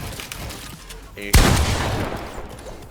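A sudden loud gunshot blast rings out in a Fortnite match as a player shoots at an opponent after flipping a ramp, a single sharp crack with a decaying tail and quieter game sounds around it.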